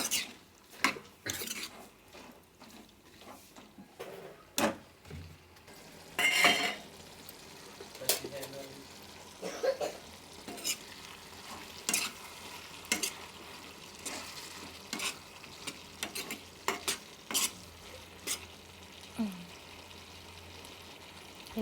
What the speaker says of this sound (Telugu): ఇలా మొత్తం కలిసేలా కలుపుకోవాలి